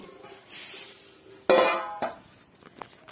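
Three cooking pots, one golden-coloured, get handled and set down, giving a sharp metallic clang followed by lighter clinks and knocks nearby with no talk.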